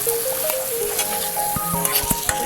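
Fried okra drops into a pan of spiced masala and sizzles steadily and close, with crackling spits and faint stirring scrapes throughout.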